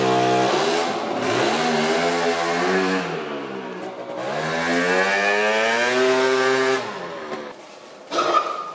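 Tuned, semi-street-legal French scooter with an aftermarket exhaust revving hard close by, its pitch climbing and falling in repeated sustained runs for about seven seconds before dropping to idle, with a brief blip near the end.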